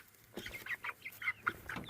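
Chickens cluck close by in a farmyard, several short uneven calls in quick succession with no voices over them.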